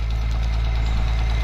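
Case 305 tractor engine running with a leaking exhaust manifold, a loud, steady low rumble with a ticking knock over the top, no voices.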